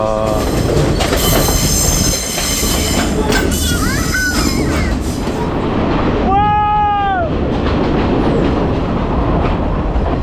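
Rumbling, rattling noise of a moving train in Sri Lanka with rhythmic clatter and occasional high wheel squeals, loud and continuous.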